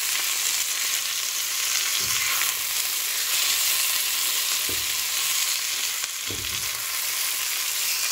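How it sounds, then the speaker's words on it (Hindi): Finely chopped tomatoes fry with golden onions in a pan for aloo gobi, a constant hissing sizzle with a few dull scraping knocks as a spoon stirs them. "अब इसमें मैं ऐड करूँगी 2 बारीक कटे टमाटर। मिक्स करेंगे।"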